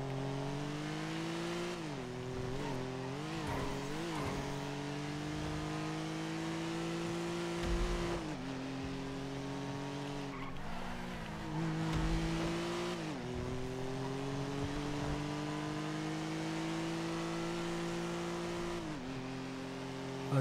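A car engine in GTA roleplay hums and revs, rising and falling as the throttle is pressed and released, with tire noise under it; a fairly faint, continuous drive.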